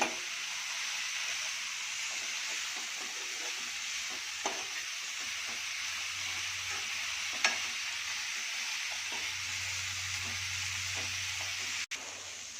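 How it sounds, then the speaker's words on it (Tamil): Vegetables for a veg momo filling sizzle steadily in a hot pan with a constant frying hiss, broken by a few soft scrapes and clicks as they are stirred. "வெஜிடபிள்ஸ் நல்லா வதங்கிருச்சு"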